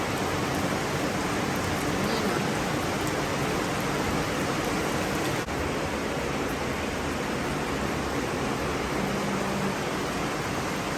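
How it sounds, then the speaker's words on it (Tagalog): Heavy rain pours steadily in a rural province setting, a dense, constant hiss that fills the scene, with a brief voice heard once over it. "lakas ulan."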